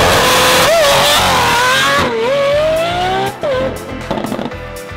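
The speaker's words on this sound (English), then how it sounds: "Next, loud exhaust systems." A car with a loud aftermarket exhaust revs hard, its engine note rising and falling in several throaty sweeps, loud and close, then settling into a rumbling idle.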